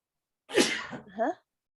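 A single sharp sneeze from a person during an online meeting, a close burst with an intake and a brief second vocal tail, then silence.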